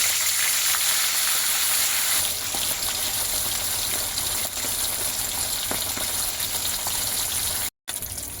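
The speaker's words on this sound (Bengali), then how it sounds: "তেল গরম হয়ে গেছে, এবারে মাছগুলো আমি ভেজে নেব।" Fish frying in hot oil seasoned with a little turmeric, a steady dense sizzle and crackle close by with faint spits and pops, a brief dropout near the end, no talking.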